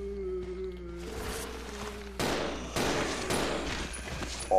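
Gunfire in Resident Evil 0 as shots are fired at a roomful of zombies: several sharp broadband blasts spaced a second or so apart, loud and close over a low hum and faint footsteps.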